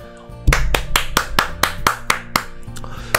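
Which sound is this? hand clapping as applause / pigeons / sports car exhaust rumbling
hand clapping as applause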